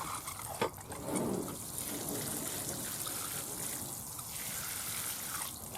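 Water poured over newly planted allotment plants, a steady close trickle and splash running for several seconds with a brief louder gush near the start and no talk.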